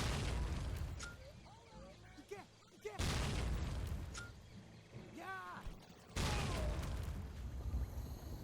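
Cartoonish explosions from a video game, with enemies launched into the air, come as loud broadband booms around the 0, 3 and 6 second marks under continuous game sounds and chirpy effects.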